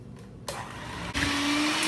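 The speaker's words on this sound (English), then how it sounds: "in a large bowl, we are going to mix 2 cups of sugar and 1 cup of softened butter" An electric mixer creams 2 cups of sugar with 1 cup of softened butter in a large bowl for a Kentucky butter cake, kicking in after a brief quiet moment as a steady whir that grows louder partway through.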